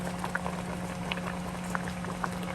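Sinigang na bangus at hipon with kangkong, a milkfish and shrimp soup, bubbles in a pot with a steady, dense simmer and scattered soft pops throughout.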